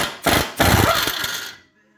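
A power tool, likely an impact wrench, removes the nut from a car's outer tie rod during a tie rod replacement, giving two loud close rattling bursts, the second lasting about a second before cutting off into silence.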